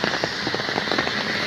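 Heavy rain pours onto surfaces near a filling street drain, a dense hiss with quick irregular patters and drips close by.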